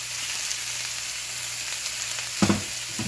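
Vegetables frying in oil in a pan, a steady bright sizzle throughout, joined near the end by a couple of louder stirring scrapes.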